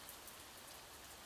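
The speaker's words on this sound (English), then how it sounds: "with the gentle rain as our lullaby" Gentle rain falls in a soft, continuous hiss with faint scattered drop taps, steady and quiet with no voices over it.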